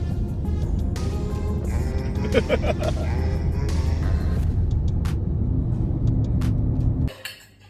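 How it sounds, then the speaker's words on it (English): A car driving through Ukraine, a steady low engine and road rumble running beneath the whole stretch, with brief clinks and a voice over it, then the drone cutting away sharply near the end. "I can't believe I'm driving my own car in Ukraine"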